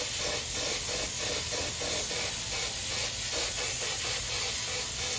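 A Harbor Freight powder coating gun sprays powder onto drag wing supports, giving a continuous, even hiss that stays loud and close throughout with faint rhythmic pulsing underneath and no voices.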